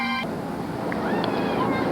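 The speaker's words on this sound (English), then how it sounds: "How'd all that traffic noise get in there?" Traffic noise with a car horn honking, a sustained horn tone cut off early, then a wash of road hiss with faint tonal toots and engine whine in the background.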